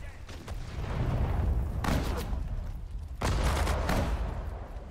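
Gunfire rattles in a World War II real-time strategy battle in Sudden Strike 4, with two sharp bursts of shots and booms rising over a rumbling battlefield background, amid occasional unit voice callouts.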